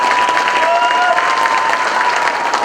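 Audience applause fills a hall at a training closing ceremony in Thirupur, a steady dense wash of clapping throughout with a faint sustained tone running underneath.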